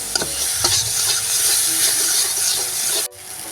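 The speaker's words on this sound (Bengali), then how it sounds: "আমি ওর মধ্যে দিয়ে দিচ্ছি টমেটোর কুচি ভালো করে এটা ভেজে নেবো" Chopped tomato frying in spice paste for an okra curry sizzles steadily under repeated scraping strokes of a spoon, then cuts off abruptly near the end.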